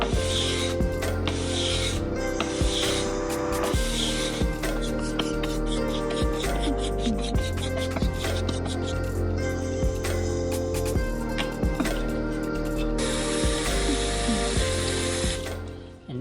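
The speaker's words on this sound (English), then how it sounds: "I'm gonna only run the stone in one direction now" Electric power planer blade stroked repeatedly along a wet sharpening stone, a close, continuous rhythmic rasping and scraping in short back-to-back strokes, with occasional clicks and a brighter, hissier passage near the end.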